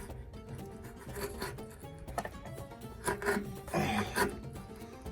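A corroded, calcium-crusted anode rod is pulled out of a water heater with close scraping and rubbing, a series of gritty rasps that grow louder toward the end.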